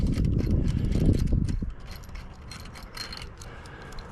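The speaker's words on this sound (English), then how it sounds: "Just pull them bolts out." Metal bolts are pulled from a T&K antenna mast bracket for an amateur or CB radio aerial, giving a loud scraping, clattering rattle for about a second and a half that then gives way to faint, sparse clicks.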